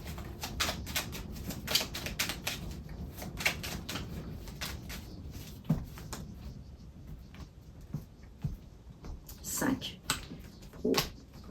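Oracle cards drawn one by one from a deck during a tarot-style reading, giving soft repeated flicks and taps of card stock with irregular spacing, close and quiet, with a voice speaking softly over them.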